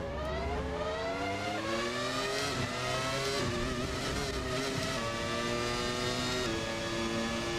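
A Williams racing car engine in a video game drones continuously at high revs, pitch climbing and shifting through gears, loud and steady with no talk.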